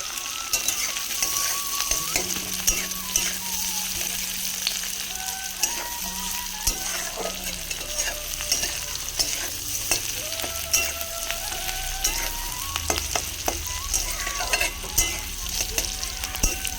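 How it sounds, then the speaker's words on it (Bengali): Onions fry in a pan with a steady, loud sizzle as a spatula stirs and scrapes against the metal, while faint background tones drift underneath throughout. "দেখি ভালো করে পেঁয়াজটাকে আমি ভেজে নেব"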